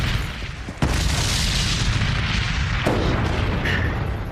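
A sharp explosive boom hits suddenly, followed by a sustained loud roar and rumble of blast noise with a second jolt partway through.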